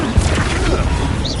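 The Incendio fire spell is cast in Hogwarts Legacy, a short burst of whooshing flame with a crashing, thumping impact, loud and close, lasting about a second.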